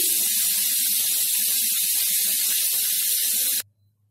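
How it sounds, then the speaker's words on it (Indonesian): Batter-coated shrimp deep-frying in hot oil gives a loud, continuous, close sizzling hiss that stops abruptly just before the end, leaving near silence. "goreng sampai warnanya kuning keemasan"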